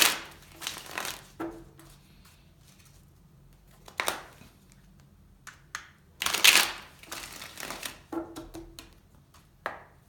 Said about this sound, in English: I want to shuffle more for you